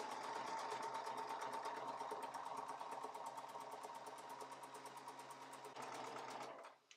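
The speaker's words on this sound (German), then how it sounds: "Wir nähen zuerst beide Seitenkanten und dann die Bodenecken." A sewing machine runs a straight stitch along cork fabric bag seams in one continuous rapid, even needle clatter, close and steady for several seconds before stopping abruptly.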